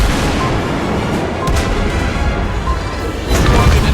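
Naval shells from a tier 10 battleship strike a target in World of Warships, a dense, loud, continuous roar of battle with a few sharper impacts rising above it, ending in a heavier burst.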